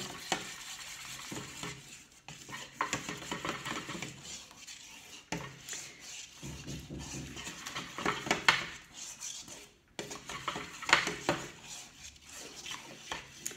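A spoon stirs a chocolate mint ice cream mixture in a bowl, giving irregular scraping and swishing strokes with light clinks against the bowl, close and moderately loud.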